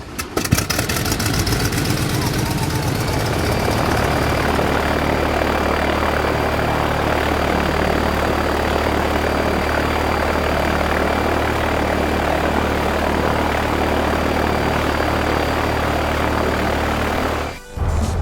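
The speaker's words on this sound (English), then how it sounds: "I'll go start the propeller for you." Toy propeller on a Lifetime Ace Flyer teeter totter, a loud, steady whirring drone that winds up at the start, runs continuously and cuts off abruptly near the end.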